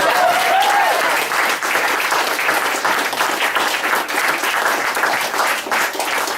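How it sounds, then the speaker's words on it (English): A comedy-night audience applauds in a dense, sustained wash of clapping that holds steady and loud for several seconds, with a brief voice or whistle at the start. "Give yourselves a round of applause."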